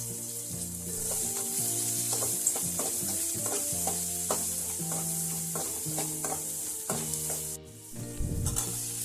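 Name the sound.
onion and fennel seeds frying in a pan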